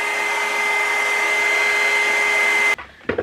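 Hair dryer on a cool setting blowing steadily over freshly painted watercolour Valentine's cards, a loud continuous whirring hum that cuts off abruptly near the end, followed by brief faint handling sounds.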